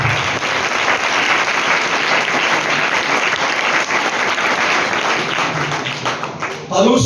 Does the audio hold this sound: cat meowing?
no